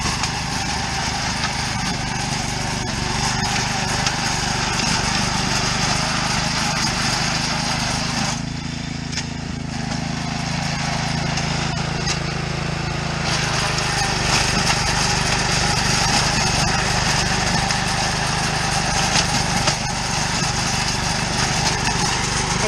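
Cub Cadet RT65 garden tiller engine runs steadily and loud throughout, a continuous buzzing drone that dips briefly partway before returning at full strength.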